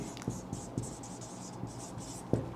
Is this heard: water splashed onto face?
no